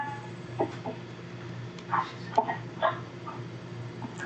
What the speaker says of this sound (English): There's a pit bull puppy that runs around here, and she's picking on him.